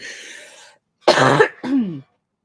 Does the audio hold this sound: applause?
no